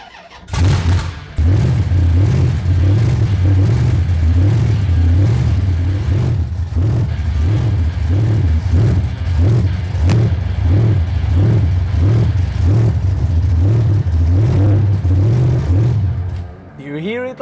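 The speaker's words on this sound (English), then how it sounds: "is very noisy and it's really big engine." A Rolls-Royce Super Silver Shadow's big engine revs loudly and close after a brief opening burst, holding a deep, throbbing, pulsing roar for over ten seconds before dropping off at the end.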